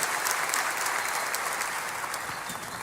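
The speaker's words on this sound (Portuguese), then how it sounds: "Aplauda o Senhor aí," A church congregation claps steadily through a worship service, a dense, even wash of applause filling the room for a few seconds.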